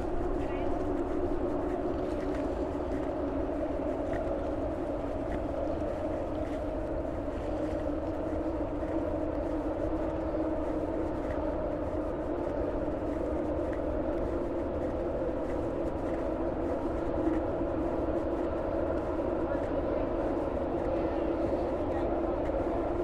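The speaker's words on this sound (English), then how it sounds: "Lots of background noise here, a bit of heavy industry, trains, etc." Constant low industrial and rail drone beside Lisbon's 25th of April Bridge, a heavy, unbroken rumble with a humming tone that stays level and fairly distant throughout.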